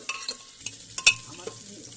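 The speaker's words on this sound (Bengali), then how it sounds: "পেঁয়াজটা আমি আবার লাল করে ভেজে নিব।" Onions fry in oil in a pressure cooker pan, a light sizzle broken by several sharp scraping clicks as they are stirred, the loudest scrape about halfway through.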